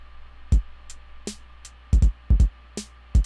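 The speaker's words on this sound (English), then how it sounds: "In context, together, the drums sound like this." A sparse lo-fi drum beat with punchy doubled kick hits, snappy snares and light hi-hat ticks, playing alone in a loose, halting rhythm.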